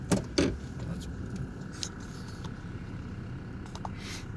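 A 2000 Chevy Blazer is driving, heard from inside the cabin as a low, steady engine and road rumble. A few light clicks and rattles of keys sound near the start.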